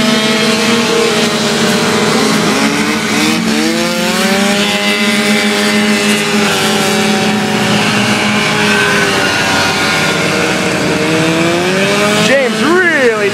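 Vintage snowmobiles race around a track, their high-pitched two-stroke engines whining loudly and steadily, with pitch rising and falling as the machines pass and corner, and several engines overlapping at close range.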